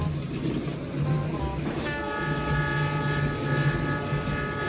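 Toy KAI CC206 and Railking steam locomotives run along a model track with a steady mechanical clatter and whirring motor hum, and a sustained horn-like tone joins partway through.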